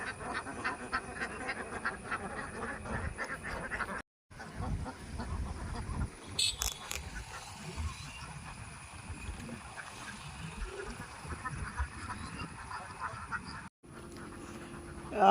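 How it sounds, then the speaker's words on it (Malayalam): A flock of ducks resting in a Kerala village quacks in a continuous, busy chorus at moderate distance, with overlapping calls and a couple of brief gaps. "നോക്കിയേ അപ്പുറത്ത് നോക്കിയേ കുറച്ച് താറാവുകളുണ്ട്."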